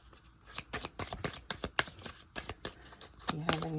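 A deck of tarot cards shuffled by hand, a quick run of crisp riffling snaps and slaps in an uneven rhythm, close and clear, with a soft voice under it near the end.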